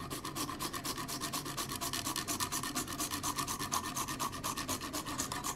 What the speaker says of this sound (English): So, we are going to grind some fresh nutmeg in.